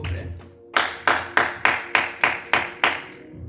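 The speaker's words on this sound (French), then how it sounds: "Acclamons la parole de Dieu, s'il vous plaît." A church congregation claps in unison in a steady rhythm, eight crisp claps in quick succession after a brief pause. The claps are close and loud, with no talking over them.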